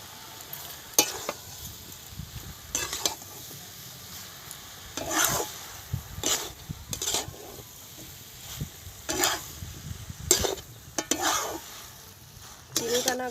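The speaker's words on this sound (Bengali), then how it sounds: "চিনিটা না গলা পর্যন্ত একটু নাড়াচাড়া করবে" Bottle gourd greens are stirred in a pan as sugar melts into them, with a spatula scraping and clattering in repeated bursts over a soft, steady sizzle and no voices.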